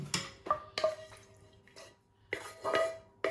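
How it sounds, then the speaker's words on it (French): A utensil scrapes and knocks across the bottom of a frying pan holding mackerel in tomato, in a few short, close, separate strokes with quiet gaps between them. "Le fond de la poêle, je récupère"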